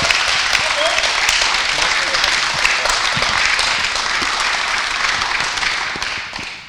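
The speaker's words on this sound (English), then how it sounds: "if we can give everybody else another round of applause" Loud, dense applause from an event audience thanking a disability history panel, a sustained close wash of many hands clapping that holds steady before fading out at the end.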